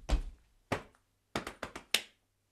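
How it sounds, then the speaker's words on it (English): Soft body percussion performed quietly: a low thud from a jump, a light tap, a quick run of three or four chest bumps, then a single crisp clap, each short hit separated by silence. "Quiet jump, quiet hip tap, quiet semi-quaver chest bumps, quiet clap."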